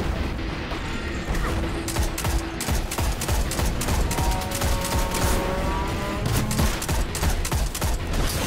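Rapid gunfire in the shooter game Destiny 2, dense bursts of sharp shots and clattering mechanical weapon noise that fire steadily throughout, with brief electronic tones in the middle and no talk over it.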